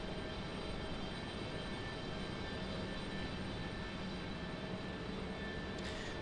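Airbus A321neo departing Raleigh-Durham International, heard as a fairly quiet, even jet rumble and hiss at a distance with thin tonal whines threaded through it, continuous throughout without speech.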